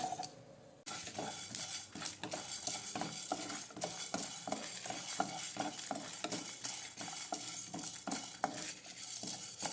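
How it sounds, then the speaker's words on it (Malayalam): Urad dal, cumin seeds, fenugreek and asafoetida dry-roasting in a pan, a steady scraping stir with repeated light clinks of a spoon against the metal, close and continuous without voices. "ഇതൊന്ന് നല്ല ചോക്ക വറുക്കണേ."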